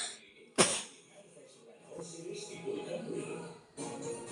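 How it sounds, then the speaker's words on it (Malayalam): A single sharp cough bursts out near the start, and a person then talks over quiet background sound from a Roblox game. "എനിക്ക് ഭയങ്കര ചുമയ സത്യത്തിൽ"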